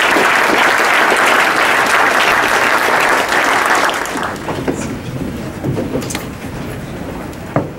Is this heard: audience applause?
yes